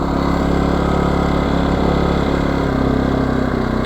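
A Champion CEM1500iS portable inverter generator, 1100 W, runs close by with a loud, steady engine drone and a constant low hum, unbroken for the whole stretch with no talk.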